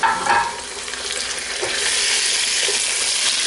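Mutton chops hit hot oil with onions in a pan, giving a steady loud sizzle and crackle with stirring noises, close up and without voices.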